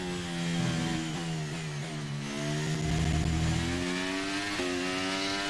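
An F1 23 race car engine in the video game at the Imola Grand Prix holds a high, steady whine, dipping and climbing again as it revs through gear changes, loud and constant with no talk.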